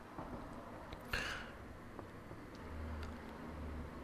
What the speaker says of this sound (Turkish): pencere açık araba sesi duyuyorsunuzdur belki